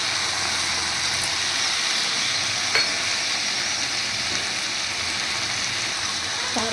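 Potatoes in a pan with mustard-poppy seed paste give off a continuous close sizzle, with a single sharp clink of a utensil partway through and otherwise a steady hiss.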